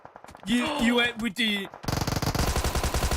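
Automatic weapon fire from a Thompson submachine gun in a PUBG Mobile pro league match bursts out in a rapid, loud rattle after a stretch of excited voices.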